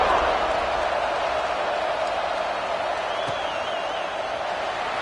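Football stadium crowd at an Illini game around kickoff, a broad steady roar of many voices with faint cheering, held at an even level for several seconds.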